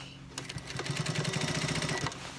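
A sewing machine runs a short burst of rapid, even stitching along the inner leg seam of military uniform pants, doing a double-row stitch, close and moderately quiet.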